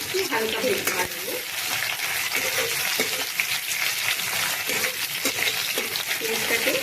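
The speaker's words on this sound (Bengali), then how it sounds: "পেঁয়াজটাকে একটু হালকা ভেজে ভাজবো।" Onions fry lightly in a pan with a continuous close sizzle and crackle, broken by occasional soft stirring scrapes and taps.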